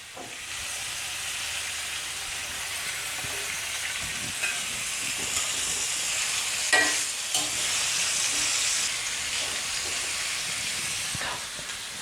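Zucchini and garlic fry in a pan with a steady, broadband sizzle that holds for the full stretch, broken by a few sharper crackles and soft stirring knocks, close up and with no one talking.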